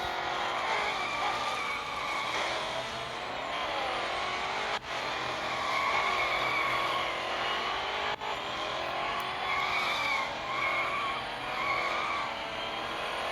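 A Ligier JS P320 race car in a video game skids with sustained tire squeal over a continuous engine drone, steady and close for the whole stretch with two brief dropouts.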